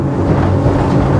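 A steady, loud roar from the twin engines of a Beneteau Antares 11 motorboat at full throttle, about 5,800 rpm and 34.5 knots, with rushing water and wind noise, continuous with no voices.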